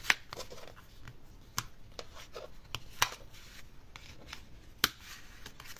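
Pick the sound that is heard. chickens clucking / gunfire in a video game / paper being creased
paper being creased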